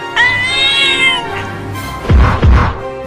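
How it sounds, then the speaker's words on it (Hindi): A cartoon cat meows loudly in several drawn-out, whining cries while trying to escape a cage, followed by two short, heavy thumps near the end. "अरे ये बिल्ली तो पिंजरे में से निकलने की कोशिश कर रही है।"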